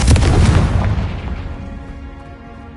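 A Confringo blasting curse goes off in a Harry Potter video game: one loud, close explosion hits at once and fades into a deep rumbling decay over about two seconds.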